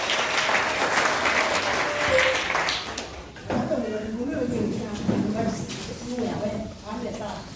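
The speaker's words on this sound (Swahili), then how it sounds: "Pigie makofi." Applause fills a church women's fellowship graduation at AIC Kyanika, loud and continuous, then fades as a voice begins speaking over it.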